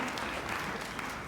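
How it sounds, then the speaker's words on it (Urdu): A church congregation at a Palm Sunday sermon claps for the Lord, a dense steady burst of many hands applauding together throughout the short moment. "تالیاں بجائیے خداوند کے لیے۔"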